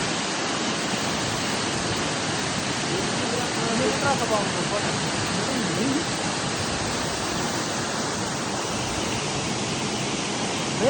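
Steady broadband rush of water pouring over Katteri waterfall near the dam at Ooty, close and continuous, with faint voices underneath.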